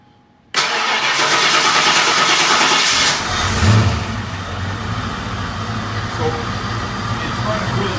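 A 1992 Mustang GT engine cranks and catches abruptly, then holds a loud, close, steady run that eases slightly into an even idle after a few seconds.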